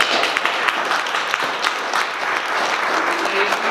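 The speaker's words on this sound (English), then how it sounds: "If you can give them all a round of applause" An audience at a cyber crime panel discussion gives the panel a round of applause, with sustained, evenly textured clapping that carries on steadily to the end.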